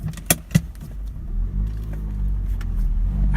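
Honda Accord with a recently replaced clutch pulling away, a couple of sharp clicks up front and then a low, steady engine rumble that builds as the car gets moving.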